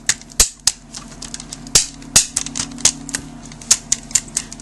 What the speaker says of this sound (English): did you hear that ratchety clickety click?